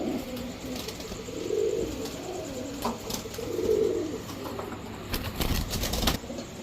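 Pigeons kept as a breeding pair of flying birds coo softly and repeatedly near the recorder, with brief flutters of wings and light background noise between the low cooing phrases.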